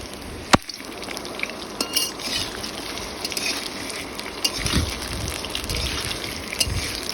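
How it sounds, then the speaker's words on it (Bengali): Potatoes frying in a pan, set aside an hour after marinating, give a continuous crackling sizzle with stirring scrapes and a sharp clack early on, close and fairly loud, with no talking. "তারপর আমি আলুগুলো ভেজে নিচ্ছি।"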